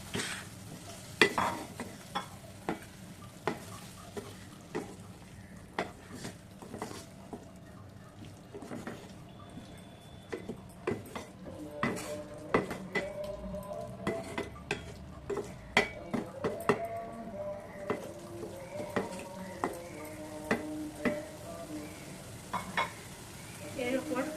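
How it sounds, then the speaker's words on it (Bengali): Boiled liver is stirred into spiced masala in a pan, with repeated scraping and clinking of a spatula against metal over a soft, low sizzle, close and moderately quiet. "মশলা কষে এসেছে এখন আমি কলিজা সেদ্ধ করে রাখা কলিজাগুলো দিয়ে নিচ্ছি"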